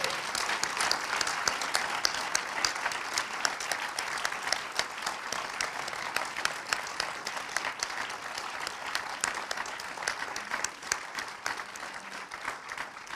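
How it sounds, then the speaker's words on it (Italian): An audience at a documentary festival award ceremony applauds warmly, dense and steady clapping from a full hall that holds for a long stretch and eases only slightly toward the end. "Facciamo un applauso di cuore per la popolazione di Gaza."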